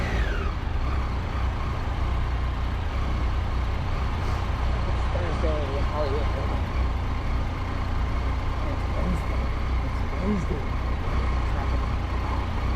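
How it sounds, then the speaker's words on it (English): Dense night traffic in Los Angeles, a steady broad roar of many engines and tires with occasional brake squeals, heard from a motorcycle amid the backup, with a rider talking over it. "This was an unusually heavy traffic night, even for LA."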